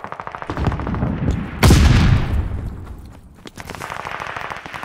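Rapid machine-gun bursts fire in Call of Duty Vanguard, then a heavy blast booms and slowly decays before more quick, rattling shots continue at a loud, close level.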